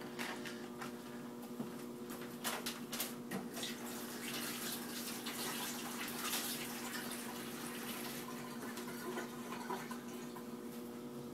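Tap water running steadily into a kitchen sink while hands are washed during chicken stock preparation, a continuous close splashing hiss that stays even throughout with no talking.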